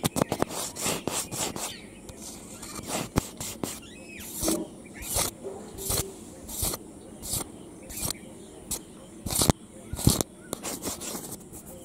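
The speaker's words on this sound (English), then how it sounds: "camera scratchy." Close, scratchy rubbing noises come in irregular bursts of harsh scraping, loud against a quieter outdoor background with faint bird calls.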